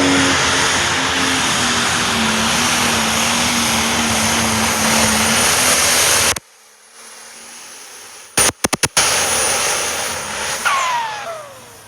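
A pulling tractor with 5,000 horsepower roars loudly down the track at the PowerPull Nationals tractor pull, a dense sustained blast lasting about six seconds before cutting off abruptly into quieter background noise punctuated by a few sharp bursts.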